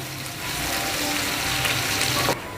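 Sliced garlic and ginger sizzle steadily in a hot pan as they are stirred together, a loud, continuous hiss of frying that stops abruptly near the end.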